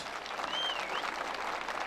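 Audience applause at a village festival in Kızılhüyük, a steady wash of many hands clapping continuously at moderate distance, with a brief whistle-like tone rising over it.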